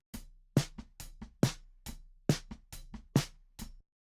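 A snare drum recorded with top and side microphones blended, giving sharp, dry hits in a loose pattern of strong backbeats and softer ghost strokes, isolated and close with nothing else playing.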